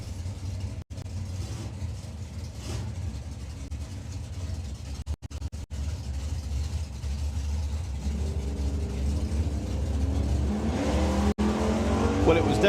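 A 1965 Ford Mustang and a 1963 Dodge at a nostalgia drag race, heard as a sustained engine roar that builds toward the end, with a track announcer talking over it.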